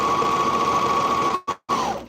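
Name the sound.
serger sewing machine running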